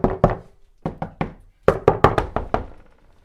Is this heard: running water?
no